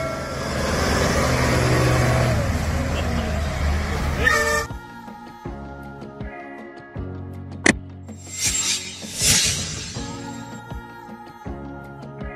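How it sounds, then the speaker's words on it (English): A mobile home truck sounds its horn: a few loud, sustained honking tones ring out after a short burst of rough, noisy rumble, with brief sharp blasts between them. "Mobile home truck."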